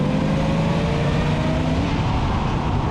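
A car with caster arms fitted to its suspension cruises steadily down the road, its engine and tyre roar loud and close in a constant interior drone, with no talk.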